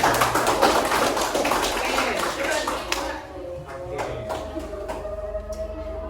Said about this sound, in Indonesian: Bapak tepuk tangan buat Kelvin.